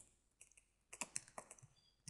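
Close, quiet keystrokes on a computer keyboard come in a quick irregular burst after a short pause, clicking alone with no voices.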